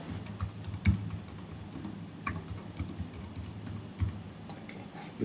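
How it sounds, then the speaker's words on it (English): Light clicking on a computer keyboard, a run of quick irregular keystrokes at close range, fairly quiet against a low background hum. "You type that in."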